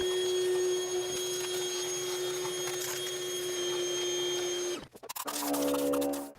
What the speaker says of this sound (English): now we want to vacuum out around the spark plug holes, top of the valve cover